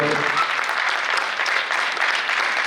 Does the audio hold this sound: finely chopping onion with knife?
no